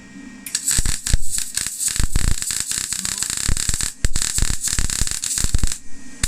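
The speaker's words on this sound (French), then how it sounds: "Là, ça a trop soudé au même endroit." A GIS Easymig 160 XL MIG welder lays a bead, producing loud, close crackling and buzzing in repeated uneven bursts separated by short pauses.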